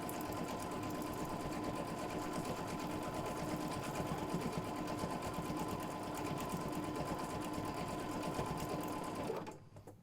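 A Janome sewing machine doing freehand embroidery runs in one continuous steady whir, close and even, for about nine seconds and then cuts off at the end.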